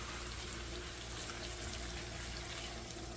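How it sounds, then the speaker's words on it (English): Hot tap water is poured from a glass measuring cup into a pan of browned beef for stew, a steady, faint, hissing trickle that continues evenly throughout, with no talking. "So we're going to add some water just to cover."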